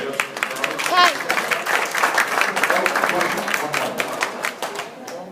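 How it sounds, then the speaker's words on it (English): Crowd applause at a Q&A session with IndyCar drivers, lively hand clapping with distinct individual claps, some cheering voices and chatter mixed in, sustained throughout. "Big round of applause for Joseph."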